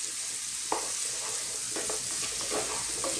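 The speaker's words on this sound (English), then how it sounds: "we're going to now cook this for about 3 to 4 minutes. Stir it all the time." Chopped onions sizzle and fry with beef in a hot pan for a beef stew, with steady broadband sizzling and several scraping stirs of a utensil spread through, no voices.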